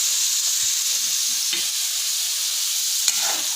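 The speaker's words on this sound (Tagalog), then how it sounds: "igisa na natin yung carrots at patatas first" Carrots and potatoes sautéing in a little oil in a pan, a steady close sizzle running the whole time with faint scrapes and stirring knocks.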